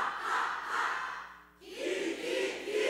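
A church congregation at a women's mission devotion service shouts a chant in unison, two loud group calls separated by a brief dip.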